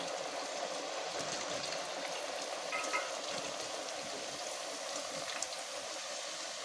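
Potato chips frying in oil, a steady, even sizzle with a soft bubbling hiss, continuous and moderately close, no talk over it.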